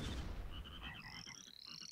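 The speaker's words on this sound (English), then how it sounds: "I'm waiting for this frog to jump down at you" A frog croaks in the video game Shellshock Live, a rapid series of short raspy pulses sliding into higher chirping tones, fairly quiet and heard alone after a brief low rumble.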